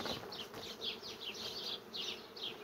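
Honey bees buzz at a hive entrance as foragers return laden with pollen, several individual bees droning past close by over a low, continuous hum.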